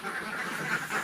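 On a laying-duck farm a dense chorus of many ducks quacks at once, a continuous near-and-far clamour with no voices.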